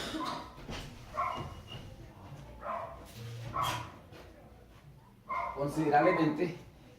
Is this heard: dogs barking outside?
yes